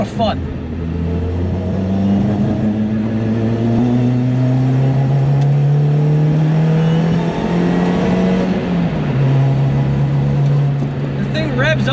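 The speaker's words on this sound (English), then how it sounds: "It's basically a motorcycle engine under the hood." A high-revving sports car engine, a motorcycle engine revving to 9,000 RPM, drones loudly and steadily, its pitch climbing as it accelerates, then easing briefly before holding high again.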